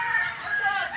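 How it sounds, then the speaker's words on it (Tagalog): An imported fighting rooster crows once, loud and close, a sustained strained call filling the whole moment with no other sound around it. "Oh, ito ay mga panabong. Mga imported na manok."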